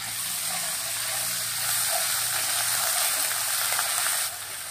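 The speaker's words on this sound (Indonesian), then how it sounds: "Mari kita mulai masak menumis." Spice paste with bruised galangal and lemongrass sautés in a pan, giving a steady, close, fairly loud sizzling hiss that holds evenly throughout and dips slightly at the very end.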